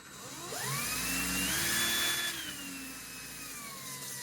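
A handheld drill spins a 3-inch strop coated with Gunny Juice 3-micron diamond emulsion, a steady whining motor that rises in pitch as it speeds up and then eases back down, fairly quiet with no voices.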